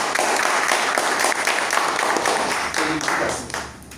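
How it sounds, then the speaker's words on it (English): Audience applause fills a Toastmasters club meeting in Dubai, a dense, steady burst of many hands clapping together that carries for several seconds before thinning and tapering off near the end. "Round of applause."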